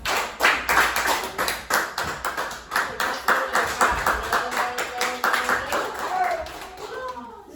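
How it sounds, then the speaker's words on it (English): Hands clap repeatedly in a steady, brisk rhythm, many claps in a row, mixed with the murmur of a group of people. "You hear me clap 4 times?"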